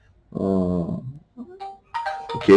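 A mobile phone ringtone chimes loudly with a steady, tonal melody for about a second during a talk on religion, then cuts off; someone briefly speaks and further voices follow.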